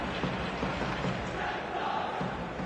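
Steady stadium crowd roar from an eFootball 25 match on a clear evening, a dense continuous wash of massed voices holding at an even level throughout with no clear individual words.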